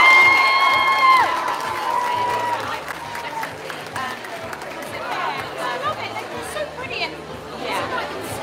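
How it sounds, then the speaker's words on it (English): A crowd of children and adults claps, chatters and cheers for a group of under-five football champions gathered on stage, a sustained, busy wash of applause and excited voices filling the hall. "All of our under five champions. Give them a big round of applause"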